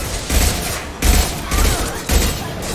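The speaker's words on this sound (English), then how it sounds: "Firing an impact shot!" Impact shot powers fire in Mass Effect 2, a series of four heavy, booming blasts spaced under a second apart, each with a thick low thump and a short rumbling tail.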